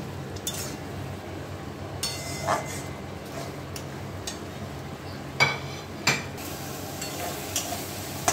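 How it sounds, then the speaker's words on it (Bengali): Pointed gourd stir-fried in a spice mixture in a kadai for a Bengali milk-based potol dish, with soft sizzling under repeated scraping and stirring and a few sharp clinks of the spatula against the pan. "পটলগুলো দিয়ে আরো 2 মিনিট মতো আমি কষিয়ে নেব।"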